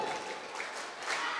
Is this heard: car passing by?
no